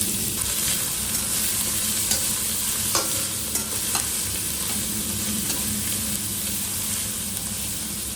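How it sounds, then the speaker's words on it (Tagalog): Garlic, onion and then bacon sizzle steadily in hot cooking oil for carbonara, a continuous close frying hiss with occasional stirring scrapes and no talking. "Kung mainit na yung mantika, ilagay na natin yung garlic. Sunod naman yung onion."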